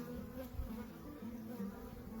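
Honeybees inside a mid-winter hive hum in a faint, continuous low buzz, close up and steady throughout.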